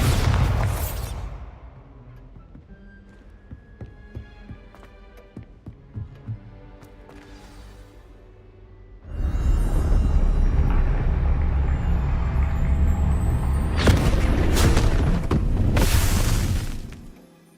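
Bombarda spell from Hogwarts Legacy: a quiet stretch gives way to a long, loud rumbling explosion that rolls on for several seconds, with sharper blasts bursting near its end.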